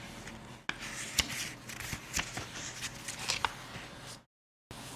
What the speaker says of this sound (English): Is my page turning super loud?